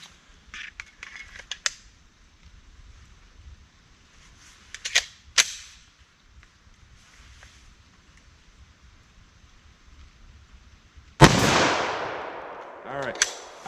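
A 10mm pistol is fired with soft point hunting ammunition outdoors: faint clicks and handling noises, then one loud sharp report with a ringing tail near the end and a smaller burst after it.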